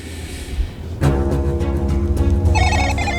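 A mobile phone rings loudly and close by, its tone starting abruptly after a short quiet stretch and continuing in a repeated pattern.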